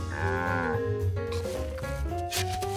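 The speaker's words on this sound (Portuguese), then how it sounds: "Uma vaca." A cartoon cow moos loudly in several long, drawn-out lowing calls with shifting pitch, close and clear with no talk over them.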